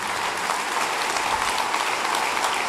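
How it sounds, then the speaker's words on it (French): Audience applause at a mayor's New Year wishes ceremony in Mandelieu-La Napoule, a thick, even wash of clapping from a large crowd, sustained and loud throughout. "je vous demanderai de les applaudir vraiment très fort"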